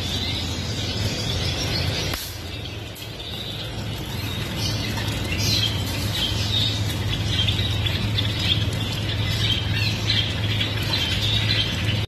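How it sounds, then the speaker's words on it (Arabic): Small bulbuls, ornamental birds in a bird shop, squawk and chirp in a dense continuous chorus of overlapping calls with a steady background hum. "هذني بلابل ديالة"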